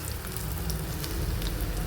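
Kebabs frying in a pan, a continuous dense sizzle with a low rumble underneath, steady and fairly close, no voices.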